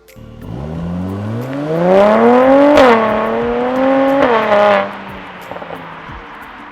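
A new 400 hp Mercedes-AMG C43 sports sedan's quad exhaust revs loudly and close, the engine note climbing in pitch over several seconds, dipping briefly, then dropping away.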